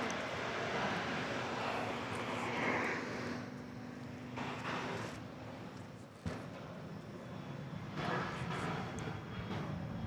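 An airplane at Dallas Love Field airport roars steadily at a distance, a broad continuous engine rumble and jet hiss lasting throughout, with a brief dip and bump midway.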